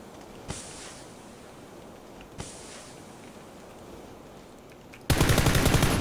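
Gunfire in PlayerUnknown's Battlegrounds: two sharp single shots ring out over a steady noisy background, then a loud rapid burst of automatic fire erupts at the end, aimed at a car.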